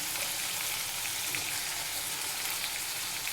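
Green turkey berries sautéing in a pan for a South Indian kuzhambu, a dense, even crackling sizzle with fine popping, continuous and close, no voices.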